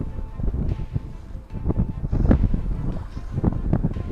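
Gusty wind buffets the microphone while fishing from a boat, a steady rumbling roar with louder surges, heard under intermittent talk.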